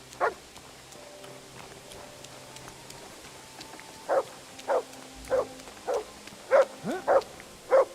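Dog barking in the medieval role-playing game Kingdom Come Deliverance 2, a run of short, sharp barks arriving in a loose rhythm after a quiet stretch, fairly close and clear over faint background ambience.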